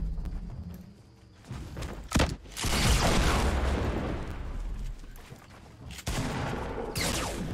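Fortnite gunfire rattles in bursts, with a loud crack near the start and sustained shooting and blasts filling most of the stretch, fading briefly before another burst near the end.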